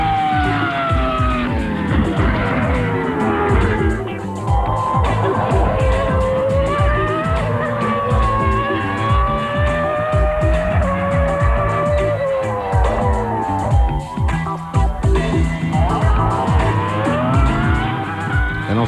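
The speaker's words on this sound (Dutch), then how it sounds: "En Verstappen die met deze auto lekker onderweg was op Fiorano" A Minardi PS03 Formula 1 car with a Cosworth engine is driven at Fiorano, its loud, continuous high-revving engine wailing and shifting pitch through gear changes and corners, close and dominant throughout.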